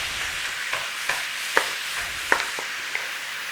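Partly defrosted minced beef fries in a pan while being broken up, a soft steady sizzle broken by sharp scraping taps of the utensil against the pan, close and alone.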